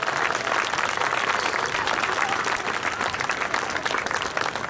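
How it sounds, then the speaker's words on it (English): Steady, dense applause from an audience at an elementary school band concert fills the whole stretch, loud and continuous with no talk over it. "So how about a round of applause"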